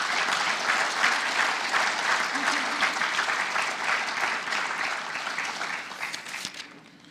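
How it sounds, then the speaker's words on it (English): A banquet crowd gives a round of applause for FFA officers, loud dense clapping that holds steady and then tapers off near the end. "Can we give this year's FFA officers one last round of applause?"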